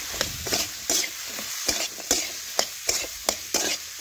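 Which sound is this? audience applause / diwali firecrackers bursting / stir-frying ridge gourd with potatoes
stir-frying ridge gourd with potatoes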